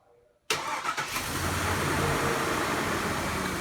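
A Chevy Trailblazer's 5.3-liter GM V8, just fitted with new ignition coil packs, cranks after a moment of near silence, catches quickly and settles into a loud, steady idle up close.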